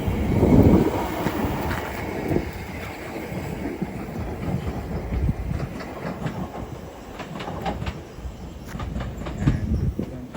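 A Class 376 electric multiple unit rolls off into Orpington sidings on the South Eastern Main Line, wheels clicking steadily over rail joints with a rumbling hum, fairly close and continuous, no voices.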